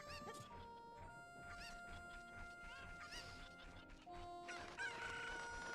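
Chicken clucks and rooster-like crows from an NES video game sound out in several short bursts among game tones, fairly faint overall.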